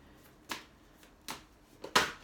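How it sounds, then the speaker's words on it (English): Angel oracle cards are shuffled by hand in three separate short slaps or swishes, spaced under a second apart, close and fairly quiet. "shuffling now."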